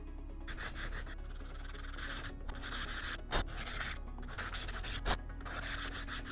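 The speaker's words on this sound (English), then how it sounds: "I've got my 60 grit sanding stick here." Steady, close scraping as Boba Fett armor is sanded by hand with a 60-grit sanding stick, in repeated back-and-forth strokes with brief pauses between passes.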